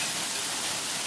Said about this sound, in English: Yep, it's hailing.